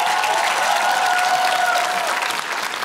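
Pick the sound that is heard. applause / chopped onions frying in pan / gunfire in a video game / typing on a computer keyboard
applause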